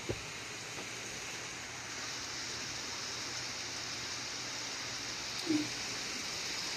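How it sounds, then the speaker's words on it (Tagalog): Heavy rain falling outside a boarding house, a steady even hiss of downpour throughout, faint and distant, with a couple of brief knocks. "tapos grabe sobrang lakas ng ulan"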